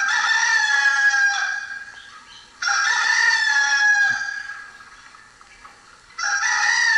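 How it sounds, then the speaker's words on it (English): A rooster crowing sound effect plays from a LabVIEW program, three loud crows in a row with short gaps between them and no talk. "we should hear the rooster crow."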